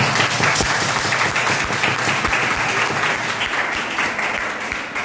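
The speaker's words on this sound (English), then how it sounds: "Clap for them." Class 4 students clap for the teams during a school quiz competition, sustained lively applause with distinct individual claps standing out, fading slightly near the end.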